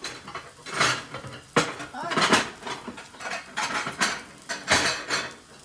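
Plates and dishes clatter and clink as a plate is taken out while making chocolate French toast, in a series of close, loud ceramic knocks and scrapes. Voices are faint in the background.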